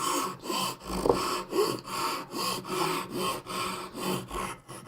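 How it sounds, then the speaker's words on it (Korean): A hand saw draws steadily through wood while cutting a miter joint for traditional Korean joinery furniture, about a dozen even rasping strokes in a regular back-and-forth rhythm, close and clear. "부드럽게 부드럽게 톱질을 해서 마무리를 짓는 거죠."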